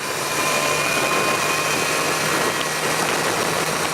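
BMW S1000XR motorcycle engine cruising in sixth gear, a steady loud drone with a thin high whine and rushing wind noise, constant throughout.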